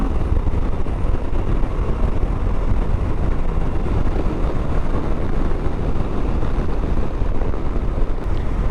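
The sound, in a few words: Moto Guzzi V85TT motorcycle riding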